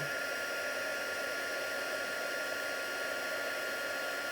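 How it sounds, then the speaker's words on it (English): A loud heat gun with a narrow nozzle blows hot air in a steady, close, unbroken roar, used for card making with stitched snowflakes; no one speaks. "It's a much noisier heat gun than my other one, but actually I think it's a lot more effective."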